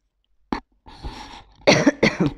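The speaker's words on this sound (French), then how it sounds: "quand je tousse là-dedans, ça doit être l'enfer" A single sharp cough, then a pause and a few more harsh, throaty coughs in quick succession, close and fairly loud.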